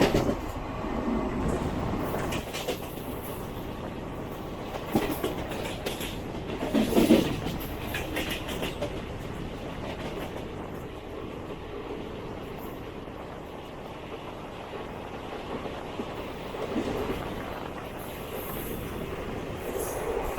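The Kannur–Thiruvananthapuram express rolls through Angamaly station with a continuous rumble and wheel clatter, its rhythm rising and falling over a long, steady pass.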